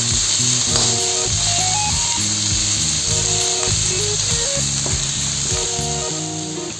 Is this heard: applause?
no